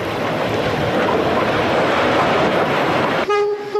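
Erie Lackawanna westbound MU electric commuter train at Morristown, a loud close continuous roar of passing cars that cuts off near the end into a sustained horn-like tone.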